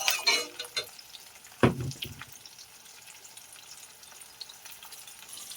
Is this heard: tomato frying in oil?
yes